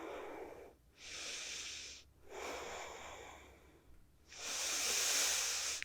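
Slow, deep breaths during a yoga flow in Virabhadrasana 2 warrior pose, three long airy exhales through the nose with short pauses between, close and soft, the last one longest and strongest, no speech.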